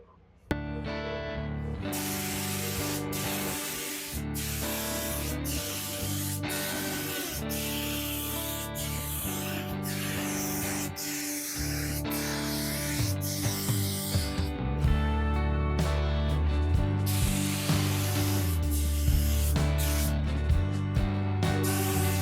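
Spray gun laying down a coat of metal flake paint, the second coat on a custom flame paint job: a loud, steady, close hiss that runs nearly unbroken with brief stops between passes.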